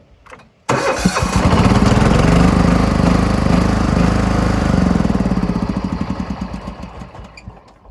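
A 1988 John Deere 175 Hydro riding mower with a starter fault cranks abruptly after a short silence. A loud, close mechanical churning holds for several seconds, then fades off with a rapid chugging rhythm.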